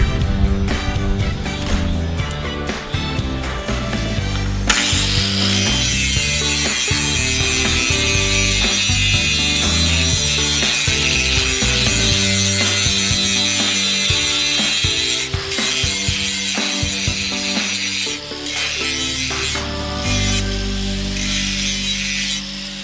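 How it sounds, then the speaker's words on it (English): A grinder works the edge of a badly damaged lawnmower blade. Mechanical clatter gives way after a few seconds to a sustained, loud grinding rasp that runs for most of the stretch, then eases near the end. "I'll bring this edge back just a little bit and then grind it until it meets the very edge of that."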